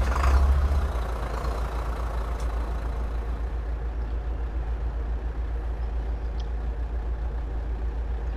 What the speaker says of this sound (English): Start the engine up.